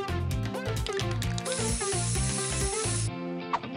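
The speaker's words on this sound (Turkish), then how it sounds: "Bir sprey boya." An aerosol spray paint can releases a steady hiss of about a second and a half over loud, busy background music.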